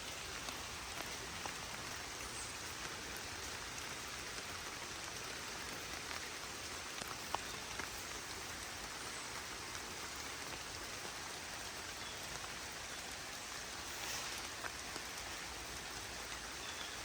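Rain falls steadily outdoors where chickens forage, a soft even hiss of drops on surfaces that continues unbroken throughout, with no voices.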